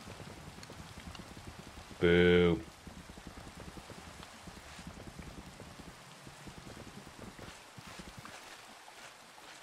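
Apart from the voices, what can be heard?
rain falling in Minecraft video game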